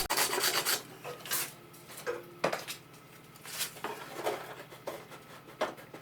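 A rasp files a wooden hull planking strip for a camping catamaran in repeated close, rough strokes. The strokes come in uneven bursts with short pauses between them, and a faint steady hum sits underneath.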